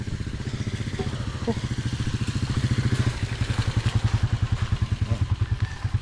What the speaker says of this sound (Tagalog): Ito pala napapaayos yung motor ni Rambo